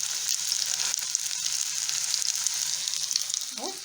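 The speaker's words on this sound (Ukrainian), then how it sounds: "я виклала на сковорідку і обжарюю з двох сторін до рум'яної шкірочки" Potato pancakes with meat sizzle steadily in a hot frying pan, browning on both sides, a close, constant crackling fry with a brief scrape near the end.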